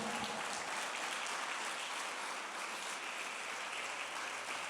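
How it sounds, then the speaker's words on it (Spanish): A church congregation applauds with dense, steady clapping that holds at an even level throughout. "Denle un aplauso al Señor por eso"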